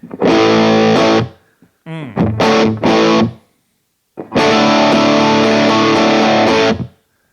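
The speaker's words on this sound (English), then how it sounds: "Let's crank up the distortion." Heavily distorted electric guitar chords from a Boss DF-2 Super Feedbacker and Distortion pedal (Keeley mod) ring out loud and saturated in three bursts, with a short choppy rhythmic section between them.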